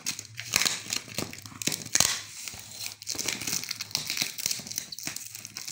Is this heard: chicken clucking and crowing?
no